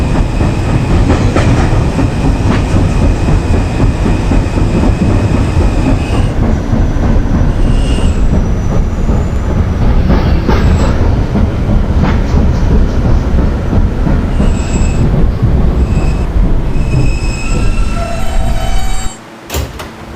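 An E subway train running along the B line, a loud continuous rumble with clattering wheels and squealing tones, steady and close until a sudden drop and brief knocks at the very end.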